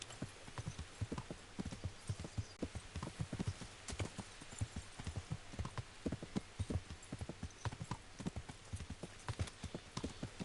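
Horse hooves clip-clop at a steady walking rhythm in the medieval video game Kingdom Come Deliverance, clear and fairly close with no talking over them.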